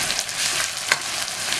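Onion with a crushed green chili, garlic, coriander and cumin paste fries in hot oil, giving a soft, steady sizzle that stays even for a moment with one brief crackle.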